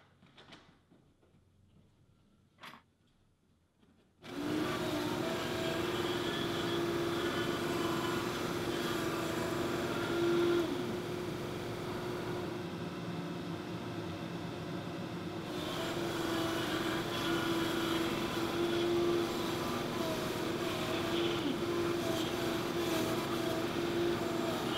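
A router cuts a shape in a GT Smart Template after a short clatter at the start, then runs as a loud, steady motor roar for about twenty seconds with slight shifts in pitch.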